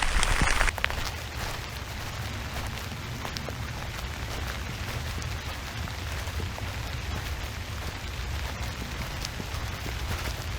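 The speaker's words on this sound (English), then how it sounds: "Still raining." Steady rain falling at night during backpacking near Thousand Island Lake, a constant hiss of drops on surfaces, even and unbroken throughout.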